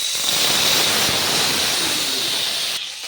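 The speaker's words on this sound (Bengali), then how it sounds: "প্রথমে কড়াতে তেল গরম হচ্ছে" Oil heats in a wok and gives a loud, steady hissing sizzle that holds for about three seconds and then drops off sharply near the end, with no voices.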